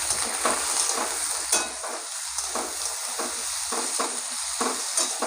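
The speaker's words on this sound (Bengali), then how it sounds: "পেঁয়াজটা হালকা করে ভেজে নেবো" Chopped onions sizzle and fry in a hot pan for a Bengali tilapia and potato fish curry, a steady close crackle with repeated scraping stirs of a utensil, no voices.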